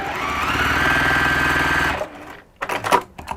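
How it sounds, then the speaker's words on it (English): A sewing machine stitches across the top of a textile piece in a steady, fast mechanical run for about two seconds, then stops, followed by a few short handling knocks and rustles. "I forgot to sew the rest of the top of my bit"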